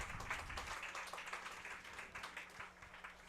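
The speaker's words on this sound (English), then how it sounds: "Appreciative applause from the crowd here," Spectators at a high school field hockey game between New Canaan and Darien give steady, appreciative applause from the stands, a soft, continuous patter of distant clapping throughout.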